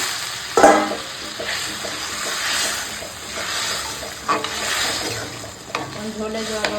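Stirring and sizzling in a pan of sautéed potato and pointed gourd curry as water goes in, with a sharp splash early on and steady frying noise with utensil scrapes throughout.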